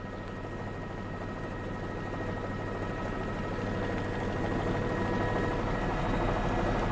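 A news helicopter hovers over an apartment complex fire in Oklahoma City, its rotor and engine making a constant, loud, droning thrum that holds steady throughout with no one talking.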